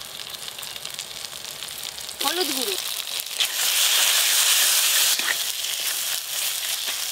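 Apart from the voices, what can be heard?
spices sizzling in oil for chicken curry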